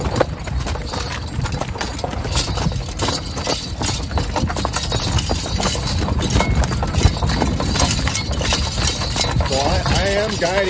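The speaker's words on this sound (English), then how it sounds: "So I am guiding these horses with the lines" Draft horses walking with steady clip-clopping hooves on a wagon ride in an Old Order Mennonite farm setting, the rhythmic clops continuous under someone talking and coaxing the team.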